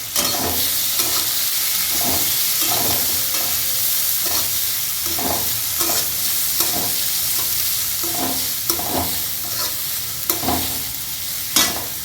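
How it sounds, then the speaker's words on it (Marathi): Chopped onions sautéing in hot oil with fried peanuts in a pan while being cooked down for chana masala: a continuous sizzle broken by regular scraping strokes of a spoon stirring them. "कांदाचा कलर ब्राऊन होईपर्यंत तुम्हाला परतून घ्यायचा आहे कांदा"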